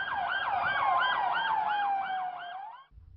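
A nearby ambulance siren wails in rapid rising and falling cycles on an ambulance driver training course, loud and continuous, cutting off abruptly near the end.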